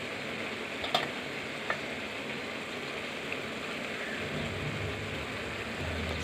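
Salted tomato curry is stirred in a pan over medium flame, giving a faint, continuous sizzle and soft scraping. A couple of light spoon taps come early on, and no one speaks.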